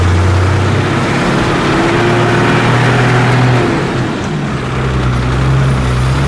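A 1976 International Scout II Terra with a diesel engine and 4-speed gearbox pulls away slowly, its loud, close, steady drone rising gradually in pitch as it spools up, with no talking.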